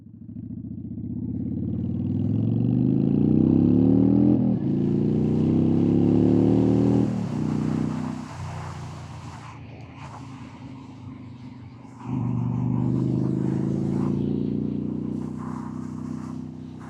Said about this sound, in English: It's not like the bike's really loud when you're just sitting there in the shop, but it's not that bad right now